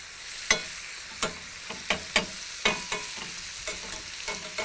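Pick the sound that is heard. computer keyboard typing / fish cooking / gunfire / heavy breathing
fish cooking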